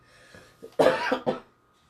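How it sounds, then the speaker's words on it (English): A few close coughs in quick succession, with a couple of softer lead-in bursts before two strong, harsh hacks, then quiet. "Gosh, don't mean to be coughing at you guys."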